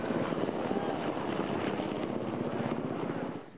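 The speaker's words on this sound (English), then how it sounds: "Coast Guard's helicopter." A U.S. Coast Guard helicopter passes over a parade in Torrance, its rotor chop loud and steady before fading slightly at the end.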